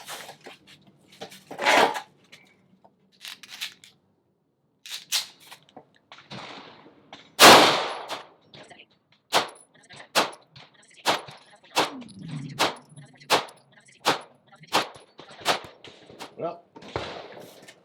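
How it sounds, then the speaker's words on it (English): Atlas Athena pistol fired at an outdoor shooting range: a few scattered sharp shots, then a rapid string of about ten evenly spaced cracks, close and loud, with quiet gaps and some brief handling noise between. "First gun up is going to be the Atlas Athena, and let's go ahead and get started."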